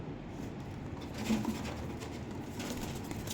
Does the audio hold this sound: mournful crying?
no